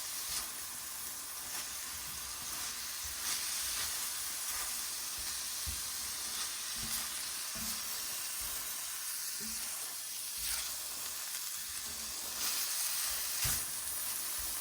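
Tuna lettuce wrap filling sizzles in a frying pan with a steady, even hiss close by, with a few faint taps and stirring clicks and no voices.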